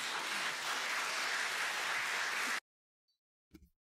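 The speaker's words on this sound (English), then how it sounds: "It only took about half an hour for people to start applauding" Audience applause in a televised seven-party UK general election debate, a dense sustained wash of clapping that cuts off abruptly, followed by near silence and a brief faint sound.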